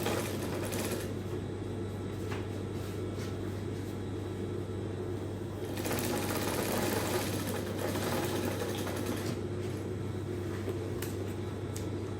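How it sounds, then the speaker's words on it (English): A sewing machine stitching the neckline of a funnel dress runs in a continuous close mechanical whir with a steady motor hum, getting a bit louder partway through, with no talk. "Keep the front and at the same time sew the neckline as well."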